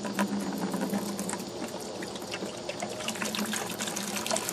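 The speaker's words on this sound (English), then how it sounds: "take your vinegar, pour it into a 5-gallon bucket" Vinegar pours into a 5-gallon bucket in a steady, splashing stream that runs continuously from start to finish, close and fairly quiet, with no talking.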